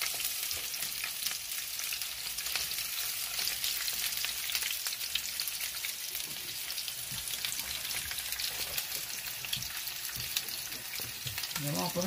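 Vegetables for chicken fajita tacos sizzle and crackle steadily in a hot frying pan, a dense continuous hiss with small pops throughout, fairly close and unbroken by talk.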